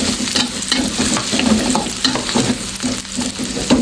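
Shallots and garlic crackle in hot frying oil in a wok, a loud, dense, continuous sizzle close by, with regular scraping strokes of a spatula roughly every third of a second.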